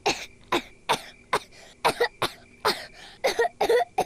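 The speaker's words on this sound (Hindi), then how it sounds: "आपको अचानक इतनी खांसी क्यों होने लगी?" A run of repeated coughs, about ten short harsh bursts spaced fairly evenly, close and fairly loud with brief pauses between them.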